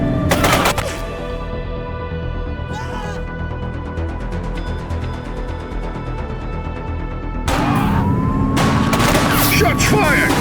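Gunfire in The Precinct police game: bursts of shots at the start and again near the end, with a steady vehicle engine drone between them and sirens sweeping over the later shots.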